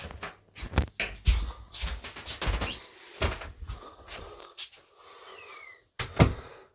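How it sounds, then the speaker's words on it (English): Someone shuts a door heavily indoors, producing a string of close, loud wooden thumps and knocks with short gaps between them, followed by a final heavy bang. "That's just Dad being incredibly heavy-handed with the door."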